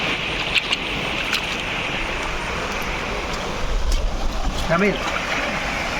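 A strong natural water stream rushes on a university campus behind a new arts building, a dense continuous roar close to the microphone, with a brief voice rising near the end.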